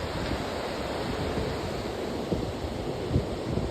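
Ocean waves break and wash on the shore at Ocean Beach, San Francisco, a steady broad roar of surf mixed with wind buffeting the microphone, with a couple of slightly louder surges and no talk.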